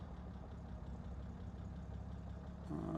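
A 1970 Jaguar E-Type Series 2 roadster engine idles steadily around 750 RPM after warming up with some choke, a low, even rumble up close that swells slightly at the end.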